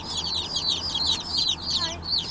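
Baby chicks cheeping in a rapid, continuous run of high, thin peeps, several birds calling over one another close by without pause, with a faint low hum underneath.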